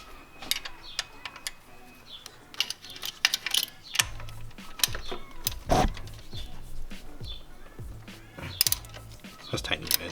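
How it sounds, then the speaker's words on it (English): A ratchet with a 14mm socket works on the pitch stop mount of a Subaru WRX, giving close, irregular bursts of rapid clicking with metallic clanks in between. "we're switching over to a ratchet with the 14mm socket and then a 14mm wrench"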